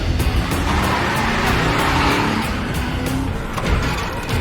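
Car skidding and crashing in a John Wick action scene, a dense, loud, continuous rush of engine and tire noise with sharp impact bursts, heard alone without talk.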